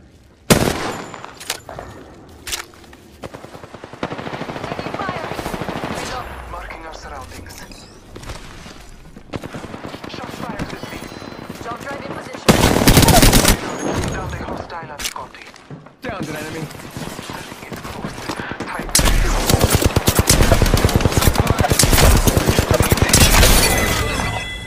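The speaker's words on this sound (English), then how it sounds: "They're shooting at me." Rapid bursts of automatic gunfire from the Apex Legends battle royale game, playing as Mirage, crackle repeatedly in sharp volleys, with a voice talking over much of the action.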